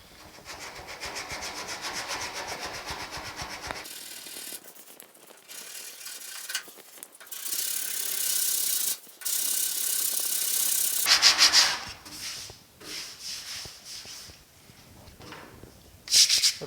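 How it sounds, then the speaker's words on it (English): Sanding by hand on the cab corner of a 1950 Chevy truck, with scratchy rubbing strokes coming in uneven bursts and pauses, close up, plus a few small mechanical clicks. "sand around this corner and not worry about putting a deep groove"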